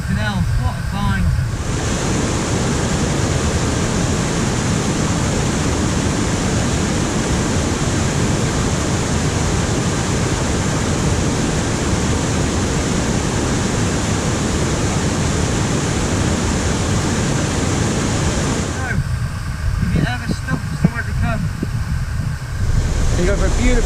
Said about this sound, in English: See the shots underneath the waterfall.